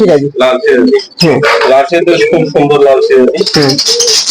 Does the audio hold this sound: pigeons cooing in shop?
yes